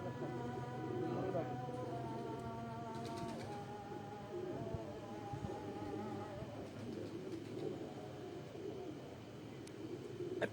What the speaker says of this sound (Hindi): 18वां कबूतर आया है जी